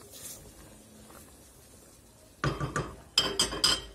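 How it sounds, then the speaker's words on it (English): A few quick metallic clinks and scrapes of a spoon against a pot while boiling basmati rice is stirred, close and brief, following a quiet lull. "I'll give it 1 stir"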